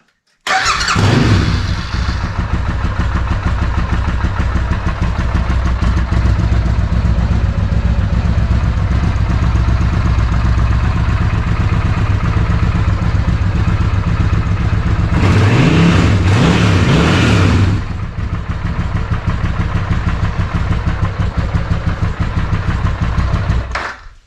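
A Suzuki VS800 Intruder motorcycle with freshly rebuilt Mikuni carburetors cranks and fires up nearby, then settles into a steady, throbbing idle, with a brief blip of revs midway before idling on.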